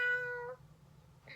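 A human voice imitates a cat's meow, one drawn-out tonal mrreow that fades, then a short faint breathy sound follows.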